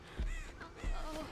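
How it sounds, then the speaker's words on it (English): Two short crow caws, roughly half a second apart, come from an online multiplayer game, fairly close and clear over a faint background. "Actually, she has AFK crows."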